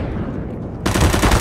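Rapid automatic gunfire bursts loud and dense from a Counter-Strike: Global Offensive match, continuous rattling shots intensifying partway through and dominating the whole moment.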